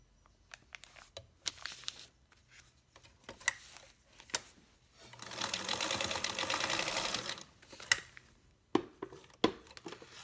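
A sewing machine runs a basting stitch along the edge of fabric, a steady whirring burst lasting a few seconds amid scattered clicks and handling noises.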